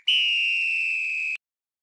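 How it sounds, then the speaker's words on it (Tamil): A bus conductor's whistle sounds once, a single shrill, steady blast lasting just over a second before cutting off sharply, alone and close. "கண்டக்டரோட விசில் சத்தம்"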